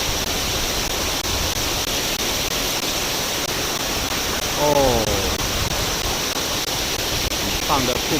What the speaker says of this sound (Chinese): 这叫深龙瀑布